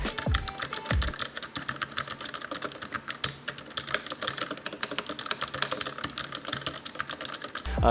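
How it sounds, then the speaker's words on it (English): Rapid, clattering keystrokes from a Gigabyte K83 mechanical keyboard, close and steady, with dense clicky taps continuing throughout and a couple of louder thumps at the start. "mechanical keyboards have a tendency to be pretty loud"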